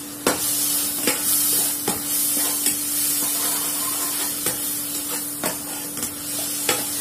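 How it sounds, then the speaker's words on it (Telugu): Leafy ponnaganti greens and egg fry in a pan with a constant close sizzle and hiss, broken by occasional sharp stirring scrapes and clicks, and no talking. "మన ఆకుకూర ఎంతవరకు వేగిందో చూసేద్దాం."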